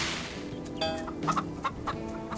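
Chickens clucking in the farming game Farm Together, several short, close clucks in an irregular rhythm over a faint background hum.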